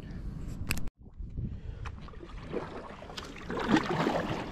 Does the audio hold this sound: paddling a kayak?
yes